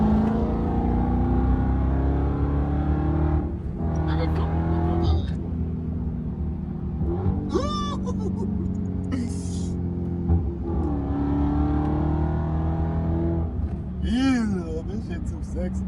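A Dodge Hellcat's engine drones steadily from inside the cabin, then drops through downshifts with sharp rev blips and climbing pitch sweeps, while occupants talk over it.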